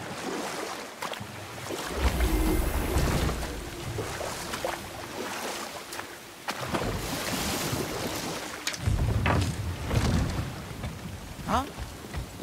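In God of War, water rushes and drains away in a loud, continuous churning wash with heavy low surges, no voices heard over it.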